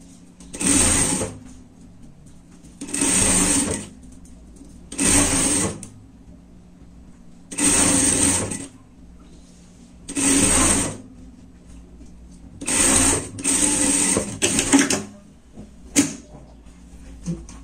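Sewing machine stitching a fleece-lined jacket lining with black thread, running in repeated bursts of rapid mechanical whirring separated by quiet pauses, close and steady, with small clicks between runs.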